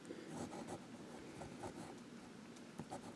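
A Sheaffer vintage student fountain pen scratches across paper in soft, continuous strokes with small ticks and pauses between letters, faint and close throughout.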